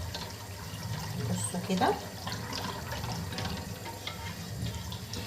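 Broth is poured gradually into a pasta and vegetable mixture, producing a steady close splashing, liquid flow with a brief gurgle, while someone speaks over it.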